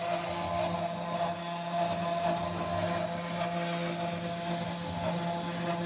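A CNC router mills two-colour acrylic plastic glued to MDF, a steady high-pitched spindle whine with a droning hum, continuous and moderately loud with no talking.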